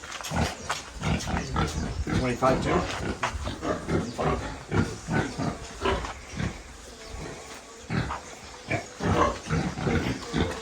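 Pigs and piglets grunt and snort repeatedly in a noisy pen on a demonstration farm in Katosi, Uganda, close by, while people talk over them.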